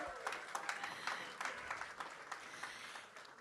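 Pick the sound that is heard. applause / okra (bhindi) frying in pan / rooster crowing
applause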